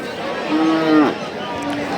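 A Friesian bull calf lets out a single drawn-out moo, rising then breaking off, over a steady murmur of crowd noise at the busy Satmile cattle market.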